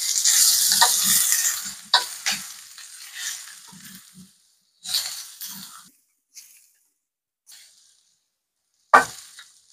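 Cut spiny gourd frying with onions in a pan over a medium flame: bright sizzling bursts that fade into quieter stretches, broken by a few short stirring scrapes and a sharp late crackle.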